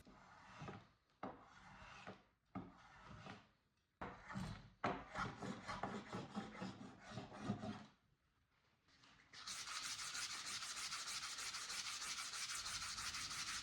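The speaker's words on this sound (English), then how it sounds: "the glued seam needs a little more additional planing and sanding." Scraping and rubbing on wood in uneven bursts, then a steady continuous hiss of sanding over a glued seam on a 19th-century French farmhouse tabletop, removing damaged finish, close up and without speech.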